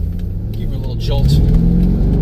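A C5 Corvette V8 engine rumbles deeply and builds in a brief rev, with a person speaking over it.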